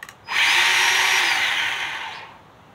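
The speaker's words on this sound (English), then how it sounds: "I have this chainsaw that's electric, put the battery in there" A battery-powered electric chainsaw, charged by solar power, whirs up sharply and runs with a high, even whine for about two seconds before spinning down, heard nearby with no talking.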